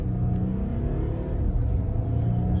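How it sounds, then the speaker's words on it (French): An SUV coupé accelerating hard, one that reaches 100 km/h in 6.3 seconds, with a steady, close engine rumble that builds continuously and is heard alone. "allez, on accélère, on va voir ce que ça donne"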